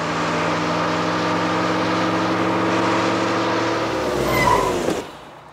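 A vehicle engine drones loudly and steadily as it overtakes a bus on the road, its pitch sliding down as it brakes, then cutting off abruptly to a stop.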